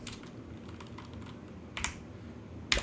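Faint, close typing on a computer keyboard while coding in Roblox Studio, with scattered light key clicks and a couple of louder taps.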